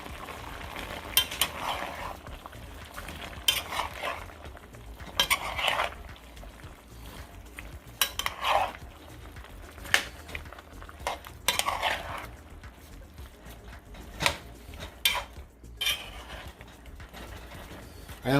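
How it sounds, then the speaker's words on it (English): A pot of homemade beef stew with potatoes is stirred, and a spoon clinks and scrapes in scattered close bursts over a faint background sizzle. "And then I'm just gonna give it a quick stir."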